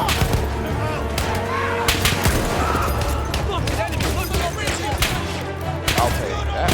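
Old bolt-action rifles fire in a Battlefield 1 battle, with sharp cracks and booming shots repeating irregularly over a busy din of distant gunfire and explosions; voices talk throughout.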